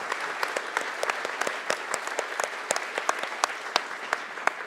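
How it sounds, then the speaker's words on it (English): Applause from a festival crowd for the organisers, steady dense clapping with distinct individual claps standing out near the front. "big round of applause for the organisers"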